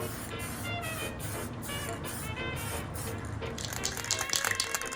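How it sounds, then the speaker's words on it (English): A clear lacquer sprayed over stained wood furniture during an Art Deco restoration, a steady close hiss that runs throughout, with a few short pulsing breaks as the sprayer is triggered. "Now once that stain is dry, I'm going to go over it with a clear lacquer."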